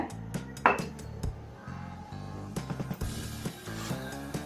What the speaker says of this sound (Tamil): ஒரு கடாய் வச்சுக்கோங்க கடாயில் வந்து ஆயில் விட்டுக்குங்க